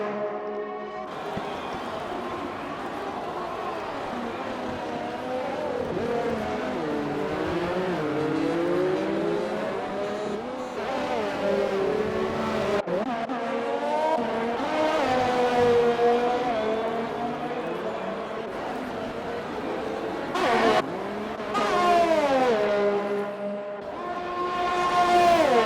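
Formula 1 race cars in the closing stages of a Vietnam Grand Prix in a racing game, high engines whining and rising through gear changes, several cars screaming past in turn, loud and sustained.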